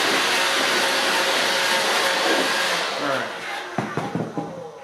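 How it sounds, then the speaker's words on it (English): A handheld blower roars steadily while clearing debris off the track of a SunJoe 10-ton hydraulic log splitter, then winds down near the end amid a few clunks. "I kind of like to keep a blower handy to keep this track nice and clean."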